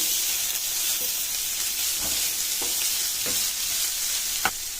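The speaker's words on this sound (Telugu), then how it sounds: "ఇవన్నీ కాస్త దగ్గర పడి ఉడికే వరకు మనం కలుపుకొని పెట్టుకోవాలి" A ragi dumpling mixture with leafy greens cooks in a pan, giving a steady soft sizzle and hiss while a utensil stirs and scrapes it, with a few light clinks against the metal.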